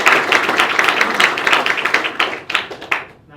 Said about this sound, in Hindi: जोरदार तालियां आप सभी की।